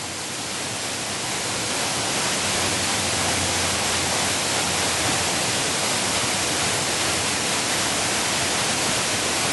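A double waterfall pours into a deepening river gorge in the Yorkshire Dales near Cray and Langstrothdale, giving a loud, steady, broadband roar of rushing water that holds unbroken throughout with no voices.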